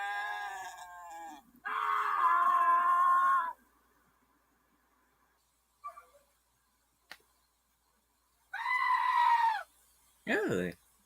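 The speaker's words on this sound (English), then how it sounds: "the old classic goat scream" A goat lets out loud, drawn-out screaming bleats in separate bursts, with quiet gaps and small clicks between them.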